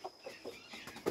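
A rooster moulting and shedding some feathers clucks in short, soft bursts, five or six quiet clucks spaced irregularly, with a faint bird ambience behind them.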